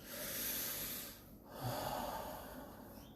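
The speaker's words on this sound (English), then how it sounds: "Take a deep breath." A slow, deep breath drawn in and released, a long airy inhale followed by a breathy exhale, close and fairly quiet.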